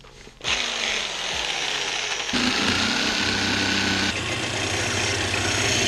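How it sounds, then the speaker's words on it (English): Jigsaw starting up and cutting out the side plate of a homemade fishing reel, a close, loud, sustained buzzing rattle that shifts pitch as the blade works through the material, no voices. "Go ahead and stick my blade in my jigsaw."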